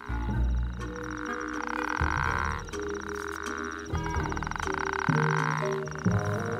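Loud, resonant frog croaks in long buzzing bursts, repeating close by in a wadi against a backdrop of other calling frogs.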